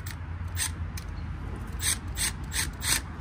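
Ratchet wrench tightening the mounting bolts on a faulty HVAC blower motor, a run of quick metallic clicks in short bursts, close by, over a low steady hum.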